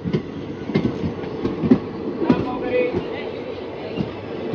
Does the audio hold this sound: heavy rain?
no